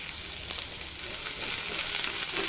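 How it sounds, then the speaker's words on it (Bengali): Sliced onions sizzle in hot oil for a raw jackfruit cutlet, a bright, steady frying hiss that grows slightly louder toward the end, with no voices. "তেলটা গরম হয়ে গেছে, এর মধ্যে আমি পেঁয়াজগুলো দিয়ে দিলাম।"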